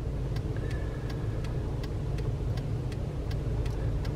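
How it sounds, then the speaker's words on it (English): Vehicles pass at around 60 miles an hour on the old Trans-Canada Highway near Kingsclear First Nation, making a steady, fairly loud road roar with faint ticking and no voices. "look at all the traffic going across"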